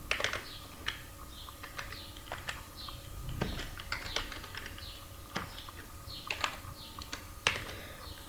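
Quiet clicking of a computer keyboard in irregular bursts of keystrokes, with short pauses between typed words, close and soft with light background hum.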